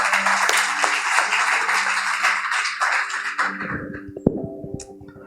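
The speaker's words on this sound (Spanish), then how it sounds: "Recibámoslo por favor con un aplauso de honra." A church congregation at a Spanish-language Sunday service applauds with dense clapping for about three and a half seconds, then the clapping fades into a few scattered taps and room noise.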